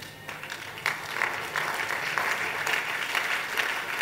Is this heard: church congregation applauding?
yes